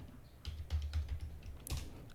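Computer keyboard typing while entering a measurement in a building-modelling program, a short burst of soft, close keystrokes in an uneven rhythm, quiet and alone.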